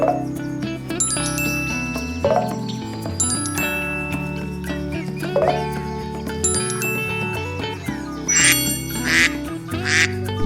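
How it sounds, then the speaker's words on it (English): Cartoon duck in a children's farm-animal puzzle game, giving a few quick quacks near the end over bright, chiming game music. "Duck."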